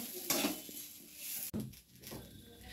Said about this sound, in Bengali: সুজিটা একটু নাড়াচাড়া করে নিয়ে এবারে এর মধ্যে পরিমাণ মতন জল দিয়ে দিতে হবে।